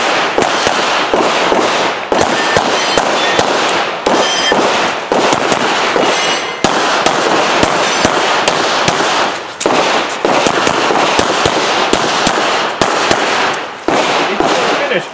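Pistol gunshots at a USPSA shooting match crack out in rapid irregular bursts, many sharp loud reports closely spaced with brief pauses, from a nearby shooter.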